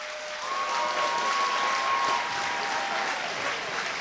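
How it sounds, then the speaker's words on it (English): A fight-night crowd applauds the fighters after a four-round bout in a dense, sustained wash of clapping that holds steady, with a faint tone running underneath. "Let's have a big round of applause for both our fighters so far."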